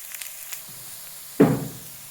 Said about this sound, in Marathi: कांद्याला छान तेलामध्ये घेऊयात परतून